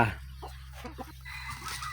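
A sick hen clucks softly in a few short, close-up bursts over a quiet, low hum, with no talking.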